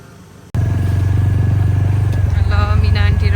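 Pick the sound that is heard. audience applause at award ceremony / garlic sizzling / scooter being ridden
scooter being ridden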